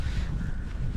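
Steady low rumbling wind buffeting a GoPro Hero 10 microphone outdoors at about minus 9 degrees, with automatic wind suppression on, continuous and fairly loud with no voices.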